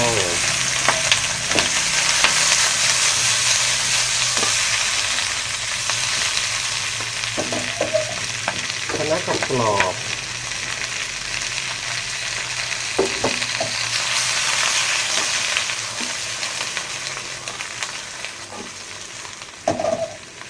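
Chicken stir-frying in a hot pan, a sustained loud sizzle with intermittent scraping and tossing strokes from the spatula, close up and steady for about twenty seconds.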